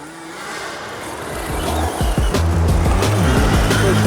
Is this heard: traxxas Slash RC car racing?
yes